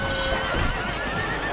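Cavalry horses in a Rome Total War battle whinny and neigh loudly with clip-clopping hooves, a close, dense burst of animal cries over a busy game mix.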